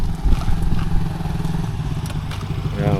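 A motorcycle engine runs close by at a gathering of riders, a steady rumbling idle with some clattering over a few seconds, with people talking in the background.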